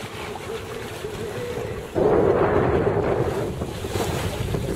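Sailboat running before a steady 17 mph wind down the Blackwater estuary toward Bradwell, with continuous rushing wind and water noise that surges louder about halfway through.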